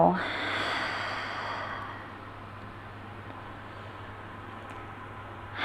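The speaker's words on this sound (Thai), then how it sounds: "หายใจเข้า และหายใจออก" A long, breathy exhale during a prenatal yoga stretch, close and soft, fading after about two seconds into quiet room hiss.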